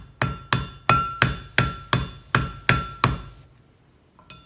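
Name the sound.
hammer flattening a rivet on a leather lifting belt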